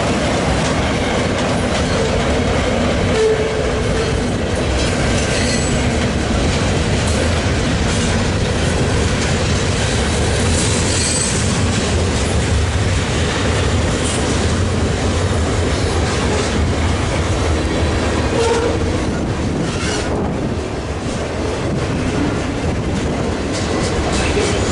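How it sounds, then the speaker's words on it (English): A freight train with flat cars carrying new Caterpillar vehicles rumbles past on a BC Rail line, a continuous loud roar of wheels and clattering cars with faint squeals throughout. "These flat cars with new Caterpillar vehicles on them were an added bonus for this train."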